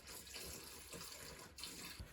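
Hot water runs from a tap into a sink filled with degreaser for cleaning bike parts, a steady, soft hiss of flowing water that stays even throughout.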